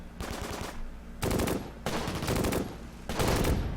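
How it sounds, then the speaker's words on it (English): Rapid machine-gun fire from the Close Combat war game rattles in long, loud bursts, four strings of shots with short gaps between them. "So this gun is absolutely keeping them under fire."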